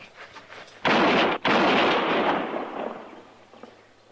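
Gunfire in a western drama: a loud, booming burst erupts, cuts out for an instant, then resumes and rings away in a long fading echo over a quiet background with no talking.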